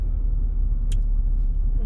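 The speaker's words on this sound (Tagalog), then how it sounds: "Mga sasakyan." Cars on a road in Guam at dusk make a steady, loud low rumble of passing traffic, with a brief hiss partway through.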